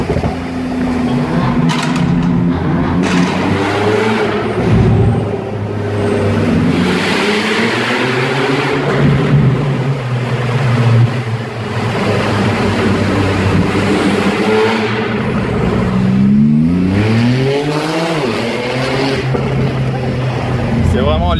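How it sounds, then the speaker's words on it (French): A 2018 Porsche 911 Turbo S Cabriolet with a Capristo exhaust revs loudly and steadily, its engine note rising and falling close by while someone talks over it. "Les bruits de post-combustion de l'échappement Capristo sont vraiment exceptionnels."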